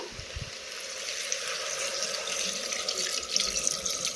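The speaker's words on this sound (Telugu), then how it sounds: "ఇలా వాటర్ పోసుకుని మొత్తం మిక్స్ చేసుకుందామండి" Water poured onto cooking vegetables for sambar makes a continuous, moderately close gushing splash with a few faint drips toward the end.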